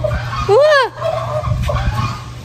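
A turkey gobbles once, loud and close, a quick warbling burst, followed by faint background noise and a brief softer call.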